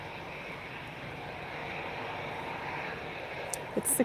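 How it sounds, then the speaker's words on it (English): An airplane landing at Lisbon Airport on a cloudy, windy evening, a steady broad engine roar held at a distance, with a few brief clicks near the end. "I think we have another landing"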